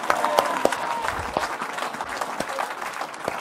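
A church congregation applauding in praise of Jesus, dense steady clapping from many hands with a few sharp individual claps standing out, murmured voices mixed in.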